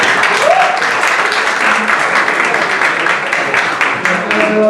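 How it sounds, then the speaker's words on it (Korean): Audience at a startup weekend final pitch event applauds to welcome the next presenting team, a loud, continuous wash of clapping throughout, with faint voices and a brief tonal sound mixed in. "박수로 부탁드리겠습니다"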